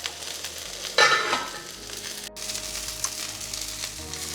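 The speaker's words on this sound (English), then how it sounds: "You can hear it sizzling in the pan" Tofu and garlic sizzle steadily in a frying pan, a constant crackling hiss with a louder burst of stirring or tossing near the start, then continuing evenly at close range.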